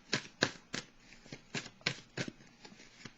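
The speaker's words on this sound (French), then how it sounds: "Maintenant, je vais prendre 3 cartes." Tarot cards being shuffled by hand, close and crisp, a rhythmic series of about ten quick riffling bursts evenly spaced over a few seconds, with no talking.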